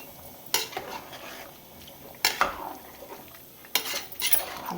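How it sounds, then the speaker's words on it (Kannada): A spoon scrapes and clatters against a pan three times as ground coriander and garam masala are mixed into chicken curry. A low sizzle continues between the strokes. "ಹಾಕ್ಬಿಟ್ಟು ನೀಟಾಗಿ ಮಿಕ್ಸ್ ಮಾಡ್ಕೋಬೇಕು."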